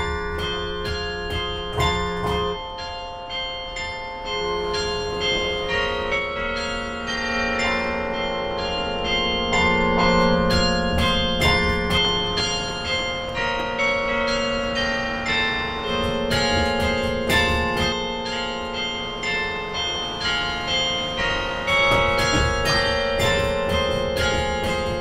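Carillon bells ring out from the tower of Vor Frelsers Kirke in Copenhagen, playing a tune as a steady melodic line of struck bell tones with long overlapping resonance, loud and continuous throughout.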